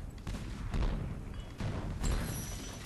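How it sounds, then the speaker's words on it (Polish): Cannons fire in the LEGO Pirates of the Caribbean game as a few heavy, muffled booms over a dense, noisy rumble, spaced roughly a second apart. "musimy e, odpalać tutaj e, armaty"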